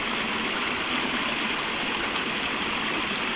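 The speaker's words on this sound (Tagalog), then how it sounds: "Jacolero Falls." Jacolero Falls gives a steady, full rush of falling water close by, an unbroken broadband roar with no voices.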